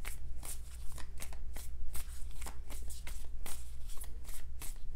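A deck of tarot cards is riffled and shuffled repeatedly at close range, giving a steady run of crisp, rapid flutters and snaps with brief pauses between bursts.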